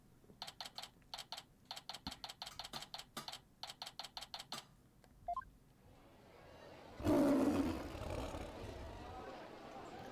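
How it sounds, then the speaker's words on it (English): A warbird's roaring cry in the Ace Attorney: Spirit of Justice game, a sudden loud, rough roar bursting in after a run of rapid dialogue-text blips, then trailing off. "It's the cry of a local bird known as the warbird."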